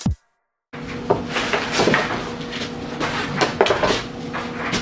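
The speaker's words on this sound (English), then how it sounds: "The dryer's going on right now." A household clothes dryer runs in the next room during home electrical and demolition work, giving a steady low hum with irregular clunks and thumps from tumbling contents. It starts abruptly after a moment of silence and stays fairly loud throughout.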